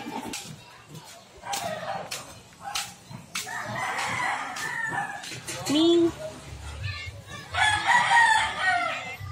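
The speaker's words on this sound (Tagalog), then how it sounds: "So yan guys, may manok." A rooster crows twice, a short call midway and a longer one near the end, amid rustling and a voice speaking nearby.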